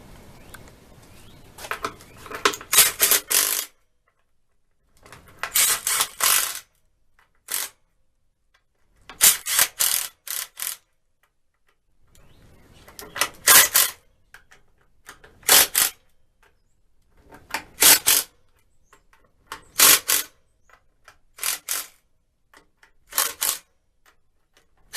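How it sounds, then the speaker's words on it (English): An impact driver runs screws into a Glenwood boiler during a leak repair, giving repeated loud bursts of rattling hammering, each lasting a second or two, separated by short pauses, close up and with no talk. "just run those in with the impact driver"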